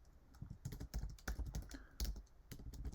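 Close, steady keyboard typing on a Mac computer, rapid irregular key clicks and thumps running continuously with no voices.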